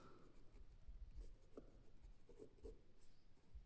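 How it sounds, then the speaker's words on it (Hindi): Pen scratching on paper while working through a Class 10 linear equations maths solution: soft, close strokes in short bursts, quiet and alone without talk. "तो हम लोग लिखेंगे इसको"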